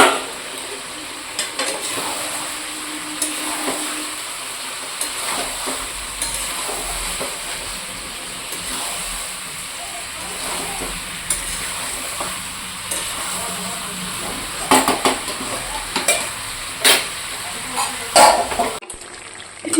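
Potatoes are added to frying chicken in a pan and stirred, giving a steady oily sizzle with scraping and stirring bursts that grow busier toward the end, while a voice talks at times.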